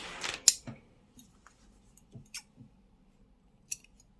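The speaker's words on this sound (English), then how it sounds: "cut the yarn and fasten off like this." Scissors cutting crochet yarn while fastening off a granny square cardigan cuff, a sharp snip near the start followed by a few soft clicks and rustles in otherwise near-silence.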